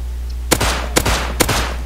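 Three loud, evenly spaced shots from a nail gun in a survival video game, each a sharp close crack with a brief tail over a steady low hum.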